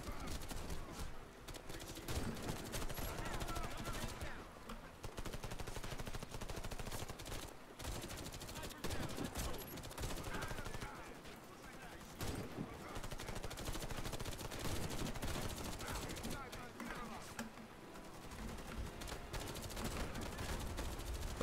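Sustained automatic gunfire rattles through a Warface sniper match, with dense overlapping bursts and explosions that run nearly nonstop at steady loudness, with only brief dips between volleys.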